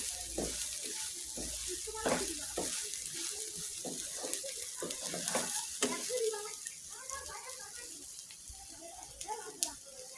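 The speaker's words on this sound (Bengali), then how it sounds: "ভালোভাবে ভেজে নিচ্ছি। পোলাওর চাউলটা" Polao rice frying in a little oil in a pan for an iftar dish, a steady close sizzle with scraping stir strokes throughout, no talk.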